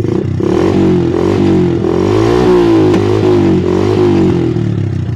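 A Honda Wave 125 motorcycle with a charging fault revs steadily up close. Its engine note swells and dips in a continuous rising-and-falling drone, with light mechanical clatter and no talking.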